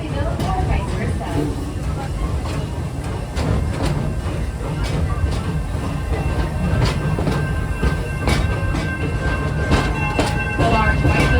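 A park train ride at Busch Gardens Tampa Bay rumbles steadily along its tracks with rhythmic clicking and clacking, while people talk in the background throughout.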